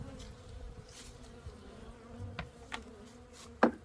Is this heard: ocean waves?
no